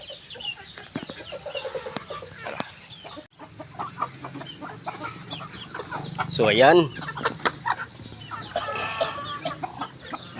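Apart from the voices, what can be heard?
native chickens clucking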